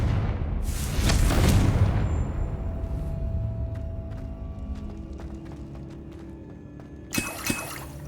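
In Hogwarts Legacy, a Confringo blasting spell bursts in a loud explosive whoosh that swells and slowly fades into a low rumble, with a couple of sharp clinks near the end.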